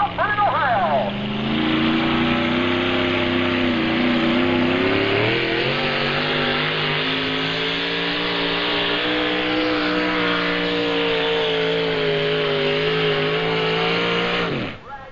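A tractor-pulling vehicle at a 1995 NTPA pull in Fort Recovery roars down the track, its loud engine holding a sustained, rising drone close by. An announcer talks over it.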